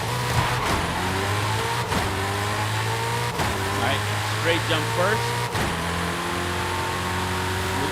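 A Hennessey Venom F5 hypercar engine in Forza Horizon 5 drones loudly and steadily at high revs, broken by a few brief gear-shift dips, while someone talks over it.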